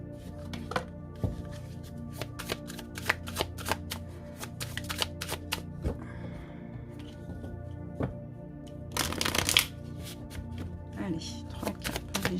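Oracle cards from the Black Moon oracle deck, volume 2, being shuffled by hand: repeated soft riffling and slapping bursts in an irregular rhythm, close and fairly quiet, with someone speaking throughout.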